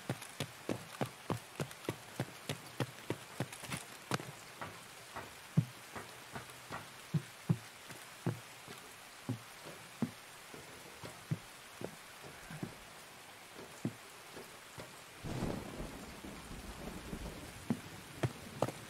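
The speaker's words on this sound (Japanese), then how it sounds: "雨降ってんのマジで気分悪いな" Rain falling in the video game Escape from Tarkov, a steady wash under a run of sharp, repeated clicks and impacts, with a louder rushing swell near the end; no talk is heard.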